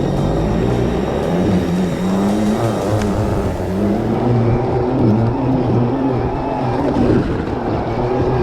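A 5000W mini snow bike powering through deep snow, its electric motor droning loud and close with a constant whir and shifting pitch throughout.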